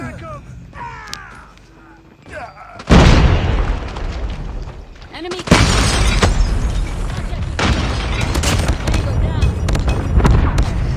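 Heavy gunfire and booming blasts in Call of Duty Mobile, with loud bursts that begin around three seconds and sustain a dense, continuous barrage after a brief pause, over faint sparse sounds at the start and talk mixed in.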